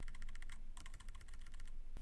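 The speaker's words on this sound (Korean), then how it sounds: "키보드의 방향키로 아래로 좀 더 내려볼게요" Computer keyboard keys tapped in quick succession while scrolling down through a document in a word processor, a steady run of sharp close clicks with a short gap near the middle and a final click at the end, with no voices.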